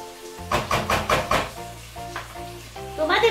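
Vegetables for lentils sautéing in a pan, a soft sizzle with a few quick stirring knocks, close by over a faint background tone.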